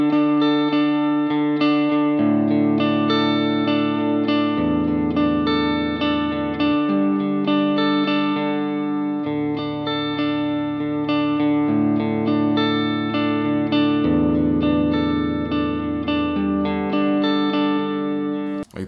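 An electric guitar played through a Vox amp with heavy drive and ambient reverb, sustained distorted chords shifting every couple of seconds, loud and continuous with a washy, shimmering tail and no talking.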